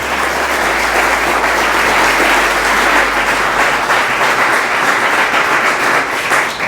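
An audience at the opening of Duck Mill breaks into loud, dense, continuous applause that stays full and even throughout, with no voices on top.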